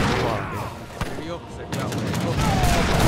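Cannon and musket fire from a battle in the strategy game Age of Empires 3, a dense steady barrage of rolling gunshots with a few sharper booms, loud and continuous throughout.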